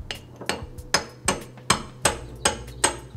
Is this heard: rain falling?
no